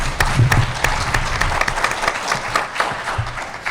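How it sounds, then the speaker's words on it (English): An audience at a criminal justice forum gives a police chief a warm round of applause, dense clapping close and steady for a few seconds before tapering slightly. "Raise your hand so they can give you a big hand of applause"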